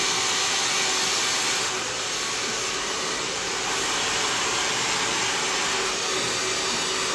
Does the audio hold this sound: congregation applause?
no